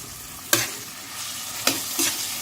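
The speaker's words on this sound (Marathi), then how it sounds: "याला मस्त फ्राय करून घेऊ आपण आपला सगळा मसाला मस्त फ्राय झालेला आहे" Chopped tomato and spices fry in a pan for veg pulao, a continuous close sizzle punctuated by three quick scraping strokes of a spoon stirring.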